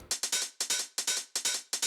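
A third set of hard techno closed hi-hat loops rattles in a dense, driving rhythm of bright clustered hits, repeating in loud, even groups with nothing else heard.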